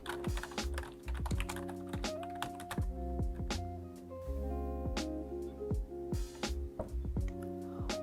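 Someone types on a computer keyboard, entering a club topic into a chat window: quiet, close, steady clicking keystrokes in irregular bursts with no voices.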